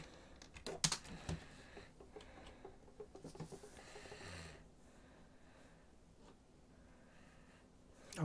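Quiet typing on a computer keyboard, with a burst of quick key clicks followed by scattered sparse taps and a soft background hiss.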